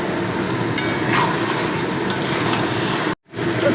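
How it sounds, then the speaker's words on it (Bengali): Chicken sautéing in mustard oil in a pan, a steady loud sizzle with faint stirring scrapes, continuous until a sudden brief cut near the end. "পনেরো থেকে কুড়ি মিনিটের জন্য খুব ভালো করে আমি একটু সময় নিয়ে কষিয়ে নেব"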